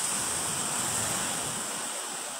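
Surf washing steadily onto a shore, a loud, continuous roar of breaking water mixed with wind noise on the microphone, with no voices.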